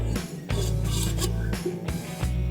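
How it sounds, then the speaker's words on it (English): Two drywall knives scrape against each other to clear off drying joint compound, giving repeated close, raspy strokes in an uneven rhythm that continue through the clip with no talking. "You'll scrape again, just scrape off as much as you can"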